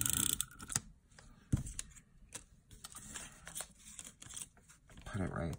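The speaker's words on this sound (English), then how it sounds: "So we'll take some more tape runner." A tape runner dispenses adhesive for card making, giving short dry clicks and brief rolling scrapes close by, repeated in small bursts amid a paper-crafting workspace.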